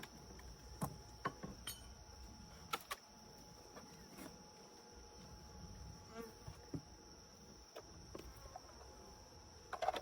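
Honey bees hum quietly and continuously, with individual bees buzzing close by now and then over a faint, steady drone.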